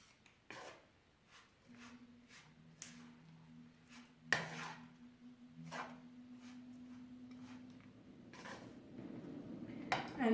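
Poha being stirred in a pan, soft scraping and rubbing strokes of a spoon against the metal, quiet and close, with a low steady hum running underneath.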